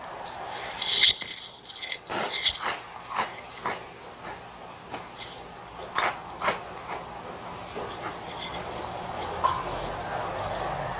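Crisp crunching bites of lemon-flavored breadsticks, several sharp crackles spread through the clip, close to the ear over a low background hiss.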